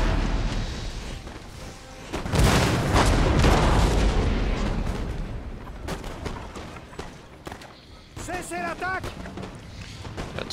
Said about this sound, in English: we're really depending on the artillery